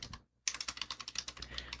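Quick typing on a computer keyboard while naming a new folder, a close, rapid run of light key clicks after a brief pause, with no talking.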